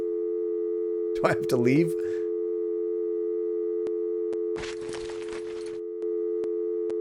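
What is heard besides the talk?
telephone busy signal sound in a video game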